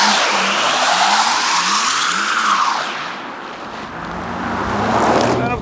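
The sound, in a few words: Porsche Macan Turbo EV launching, wheels spinning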